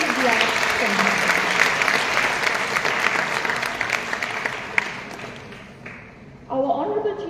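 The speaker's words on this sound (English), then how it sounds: "a big round of applause for this state-of-the-art center." Audience applause fills a hall at the launch of a new IVF centre attended by the chief minister, a dense, sustained clapping that continues for about six seconds before a voice begins speaking near the end.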